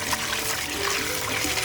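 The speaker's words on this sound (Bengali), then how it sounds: "এবার মাংসগুলো ধুয়ে নেওয়া যাক।" Chicken pieces for a Bengali chicken biryani being rinsed in water, a steady close splashing and trickling that runs continuously without pause.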